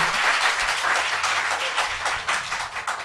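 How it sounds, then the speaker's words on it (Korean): A live talk-show audience breaks into dense, steady applause that carries at full strength for the whole stretch, many hands clapping together without a pause. "박수!"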